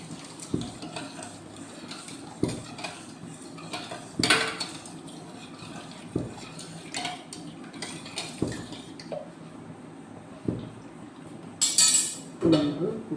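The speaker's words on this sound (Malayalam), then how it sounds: "നന്നായി ഇളക്കി കൊടുക്കാം." A metal spoon stirs prawn biryani mixture in a pot, producing repeated scraping strokes and sharp clinks against the metal at a steady, unhurried pace, close by, with a faint voice now and then.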